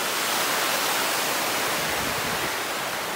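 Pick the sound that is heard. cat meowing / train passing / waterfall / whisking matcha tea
waterfall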